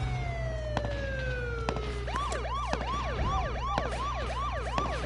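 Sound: sirens in a PS4 video game

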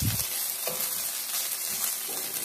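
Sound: onion, garlic ginger paste and green chili frying

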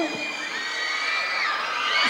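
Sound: audience of children cheering for contestant number 11

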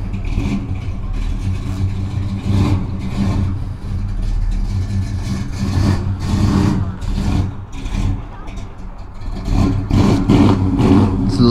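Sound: car revving and reversing out

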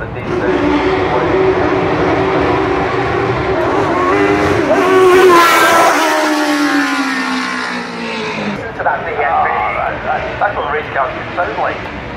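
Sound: race car engine at speed

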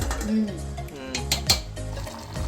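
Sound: stirring pakodi curry in a pot

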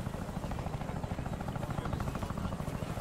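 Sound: helicopter going down in video game ArmA 3

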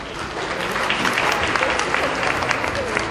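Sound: audience applause at an award ceremony

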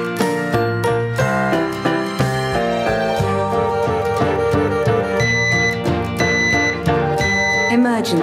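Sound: smoke alarm voice warning

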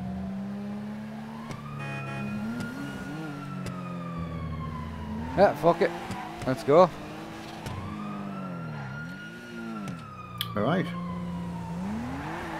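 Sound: police car siren in a roleplay video game

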